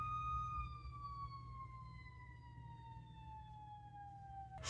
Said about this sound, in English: There are sirens outside.